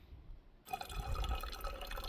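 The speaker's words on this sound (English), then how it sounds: "Cleaning this water filter" Water runs and splashes steadily over a hiking water filter being rinsed clean outdoors, starting abruptly after a brief quiet moment and continuing close and fairly loud.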